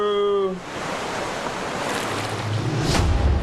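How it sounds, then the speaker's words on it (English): Big ocean waves surge and hiss around a small rowing boat, a continuous rushing wash with wind noise, following a brief tonal whistle at the very start. "Those waves are getting kind of big."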